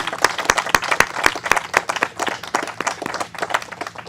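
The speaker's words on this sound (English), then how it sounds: "that also deserves a big round of applause" A room of attendees at an Ontario wetlands restoration announcement breaks into applause, with sharp, distinct claps ringing out over a dense, steady patter that holds loud through the whole stretch.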